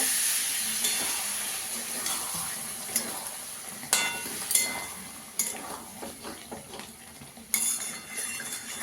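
Potatoes with garlic fried and stirred in a pan, a soft steady sizzle broken by repeated sharp spatula scrapes and clinks against the metal at an uneven pace, no one speaking.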